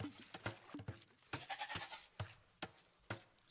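Sheep bleat in the Age of Empires strategy game during a 2v2 league match, a few faint, quick calls over a low, busy game soundscape.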